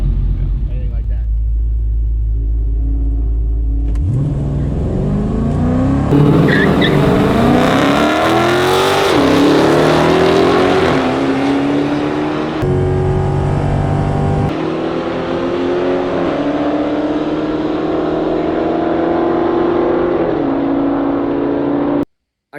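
Drag race car at Rockingham, North Carolina, creeping forward to stage and then launching, a loud idle rumble rising into hard revving acceleration with rapid gear changes, close and powerful, with an occasional voice underneath.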